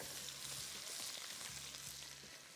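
Garlic fries briefly in a karahi as the base for Balochi chicken karahi, a soft, low-level crackling sizzle that holds steady without pause.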